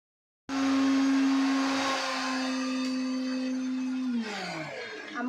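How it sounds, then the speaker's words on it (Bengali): A kitchen mixer grinder grinds poppy seeds for aloo posto. It starts abruptly with a loud, steady motor whine, runs for several seconds, then winds down as its pitch drops. "আমার মা এখানে আলু পোস্ত করবে, তাই পোস্ত বাটছে মিক্সিতে"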